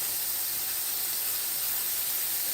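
Shrimp sizzle in a single uncrowded layer in a sauté pan, giving a steady, even hiss with no breaks.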